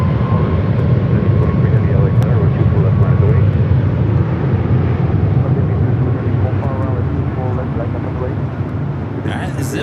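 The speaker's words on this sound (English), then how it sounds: "This arrival is Delta Airlines Flight 800 coming in from Fort Lauderdale on the A321 Neo." A Delta Airlines Airbus A321neo arrives at LAX, its jet engines producing a loud, continuous low rumble that eases slightly as it passes.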